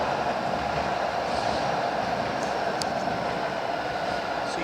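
A Calgary C-Train light rail train passes nearby, giving a steady, loud rumble with rail noise that fills the whole stretch, with no voices.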